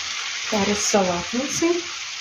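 Meat stewing in gravy in a covered pan sizzles steadily, with a few brief voice-like tones rising over the constant frying hiss.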